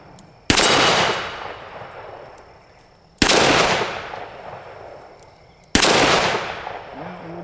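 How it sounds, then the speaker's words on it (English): Three loud, sharp .357 Magnum shots ring out from an EAA Windicator revolver fired double action at steel plates outdoors, each blast spaced a few seconds apart with a long fading echo. "I'm going to try double action on these red plates."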